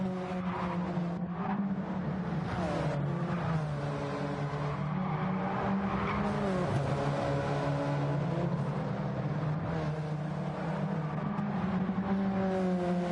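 Race car engine droning steadily with shifting pitch in a GT2-class sim racing game at Lago Maggiore, a car spinning out on track, constant and fairly loud with no talk.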